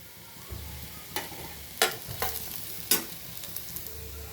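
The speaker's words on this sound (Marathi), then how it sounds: "तर लाल होईपर्यंत आपण फ्राय करू." Browned onion fries with turmeric and chili powder in a pan, a steady sizzle punctuated by several sharp spatula scrapes and clinks as it is stirred, close and without speech.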